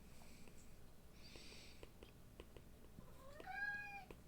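A pet cat gives a couple of soft, faint meows in a quiet room, the last one a clearer rising call near the end.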